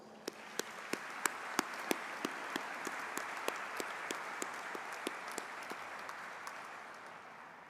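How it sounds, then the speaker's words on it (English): A University graduation crowd at City University Qatar gives soft, distant applause, with one nearby pair of hands clapping in a sharp, regular beat above the steady wash. "let us give them a round of applause for their amazing accomplishments"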